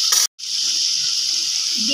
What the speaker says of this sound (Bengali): এবার এটা দিয়ে একটু ভাজা ভাজা হোক